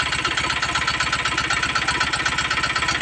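A tractor engine running at close range, a steady rhythmic diesel chug with a throbbing low pulse and a constant mechanical rattle, no voices over it.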